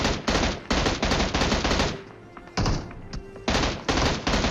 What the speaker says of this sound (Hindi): अब यहाँ पे जो चारों तरफ इतनी गंदी वाली फायरिंग हो रही थी